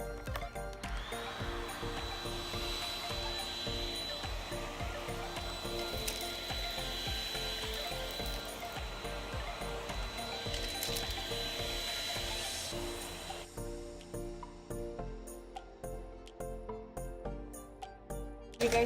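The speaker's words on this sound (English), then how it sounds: "I'm going to show you how fast and how amazing my vacuum is." A Shark vacuum cleaner runs on the floor with a loud, steady whirring motor hum that keeps going for most of the stretch, then cuts off near the end, leaving only scattered clicks.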